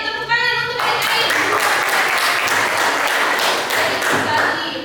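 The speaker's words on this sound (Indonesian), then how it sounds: "Tepuk tangan untuk adik-adik" A classroom of students applauds, dense rapid clapping that starts abruptly after a brief voice and carries on steadily and close for several seconds.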